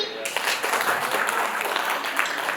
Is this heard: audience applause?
yes